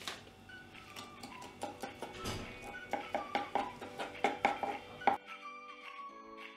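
A knife cutting through the head of a sardine during fish cleaning, heard as a run of close, sharp rhythmic ticks and knocks against a board, fairly quiet, then breaking off into a faint hum, with no talk.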